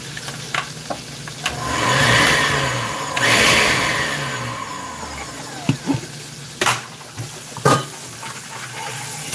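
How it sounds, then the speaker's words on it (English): A kitchen blender grinds dry coconut with a loud whirring motor that ramps up and down over several seconds, then breaks into sharp knocks and clatter as the machine stops and is handled. "I'm gonna blend this dry coconut."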